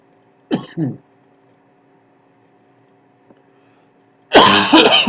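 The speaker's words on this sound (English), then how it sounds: "I'm afflicted with a cough that I just cannot shake" Two sharp coughs close to the microphone, then quiet with a low hum, followed by a louder burst of coughing or throat clearing.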